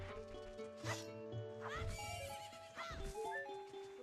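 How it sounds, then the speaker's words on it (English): A horse whinnies and snorts several times in quick succession in Majora's Mask, with a synthetic, game-like quality over a steady musical background. "Get off the horse, Link."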